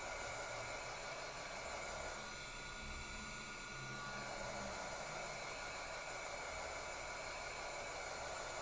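A craft heat tool blows hot air onto a gourd craft piece resting on a silicone mixed media mat, giving a steady, quiet, unbroken whooshing hiss that runs the whole time with no talk over it.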